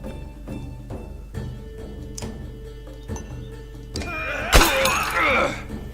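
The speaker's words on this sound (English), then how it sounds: "shatter his armor" Armor shatters with a loud, crunching break in The Banner Saga combat, following a run of evenly spaced ticks and thunks as the sound lingers briefly in a bright, ringing crackle.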